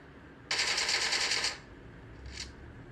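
A rapid burst of automatic gunfire in the video game PUBG lasts about a second, then a brief fainter burst follows, with no speech.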